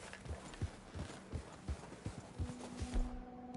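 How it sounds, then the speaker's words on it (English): Hooves of a white Arabian horse in Red Dead Redemption 2, a steady clip-clop of walking footfalls, fairly close and moderate in volume over soft outdoor ambience. "The most overrated horse in the game. The white Arabian horse."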